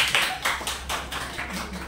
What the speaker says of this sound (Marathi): सर्वांनी टाळ्या वाजवून त्यांचं स्वागत करायचं आहे